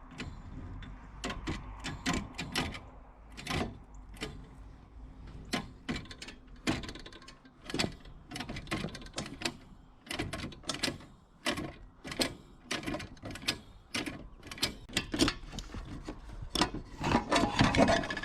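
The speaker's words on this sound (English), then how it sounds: "So let me disengage the come along now with a cable puller." Come-along cable puller released during frame damage repair on a Polaris Sportsman 6x6 ATV, a long run of rapid ratcheting clicks and metallic rasps, close and uneven in rhythm.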